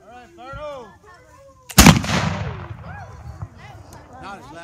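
A single sharp gunshot rings out during a live demonstration at a historic fort, a loud crack with a long echoing decay after brief talk from the crowd beforehand.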